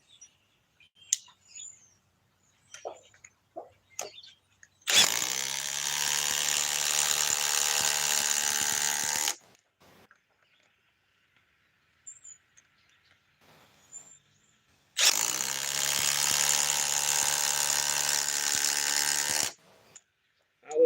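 Milwaukee 4th gen impact driver on a self-tapping screw fires in two bursts of about four seconds each, loud and close, with quiet clicks and handling noises in between.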